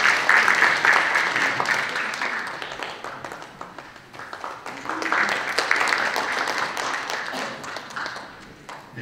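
Applause at a Sejong City forum on administrative capital policy welcomes the next speaker, crisp clapping in two swells that fade briefly in the middle and trail off near the end.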